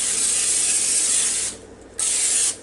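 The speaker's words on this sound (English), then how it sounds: "What I'm going to do is just spray my dish and set it aside." Two hissing bursts from a spray can of olive oil onto a baking dish, a long spray, a brief pause, then a shorter second spray, close and clear.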